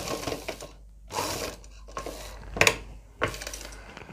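A sewing machine stitching a pocket onto a salwar, running in short separate bursts of whirring with brief pauses between them, close and moderately loud.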